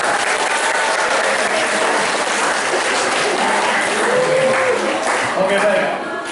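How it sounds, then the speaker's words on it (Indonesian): An audience applauds at the close of a qualitative research methods class seminar, steady clapping from many hands filling the room for about six seconds, fading slightly at the end. "Berikan aplaus dulu lah"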